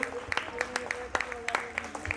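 At a Navratri costume competition, an audience claps for a performer, producing scattered individual claps that come fairly close and sparse rather than in a dense roar.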